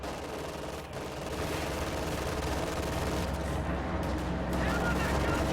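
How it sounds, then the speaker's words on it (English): A machine gun bunker in a war video game keeps up steady, dense fire, a continuous loud rattle blended with battlefield rumble that grows slightly heavier toward the end. "MG bunker firing on those riflemen"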